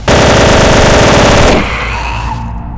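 Rapid automatic gunfire in a Gmod horror ghost-hunt map, a loud, close, steady burst of shots for about a second and a half, then a ringing decay.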